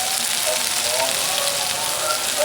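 Raw prawns dropped into hot mustard oil in a home kitchen give a steady, dense hiss of frying, close and even throughout, with faint voices murmuring underneath.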